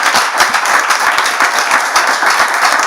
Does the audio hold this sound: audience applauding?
yes